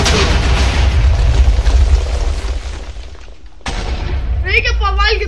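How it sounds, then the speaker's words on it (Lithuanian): In Minecraft, a ship explodes with a loud, rumbling blast that slowly fades, followed by a second burst. A voice can be heard toward the end. "Viskas, sprogo laivas."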